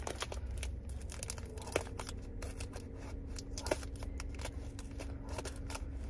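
Scissors or a blade cutting open a sample package, with continuous crinkling and rustling of packaging and a couple of sharper snips, close and fairly quiet.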